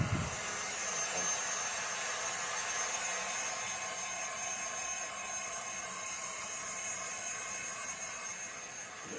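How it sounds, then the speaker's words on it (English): A heat gun blows hot air over an alcohol ink tumbler, a steady loud whooshing hiss with a high whine that holds constant from start to finish. "The heat gun."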